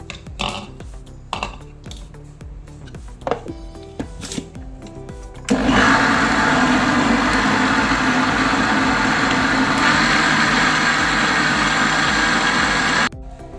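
An electric beater whirs loudly and steadily through banana sponge cake batter for about eight seconds, preceded by scattered clicks and bowl knocks and ending abruptly.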